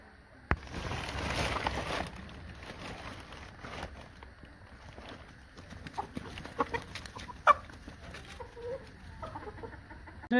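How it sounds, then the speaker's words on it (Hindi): Newly released hens cluck and squawk in short bursts around a farmyard, fairly close and moderately loud, with scattered sharper calls and some background noise. "नई मुर्गियों को भी खोलते हैं अभी।"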